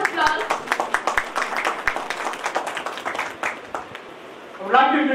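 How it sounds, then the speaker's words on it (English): Audience applause at a Salesforce community event in India, a dense patter of many hands clapping close by for several seconds, fading slightly before a voice begins at the end. "Please give a huge round of applause."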